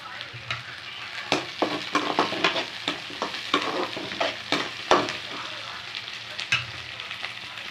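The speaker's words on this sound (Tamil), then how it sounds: "நல்லா நல்லா வதக்கி விட்டுக்கோங்க இப்போ கருவேப்பிலை கொஞ்சம் போட்டுக்கோங்க" Curry leaves sauté in hot oil with garlic for brinjal kara kulambu, a steady sizzle broken by frequent clicks of a spoon stirring against the pan, close and moderately loud.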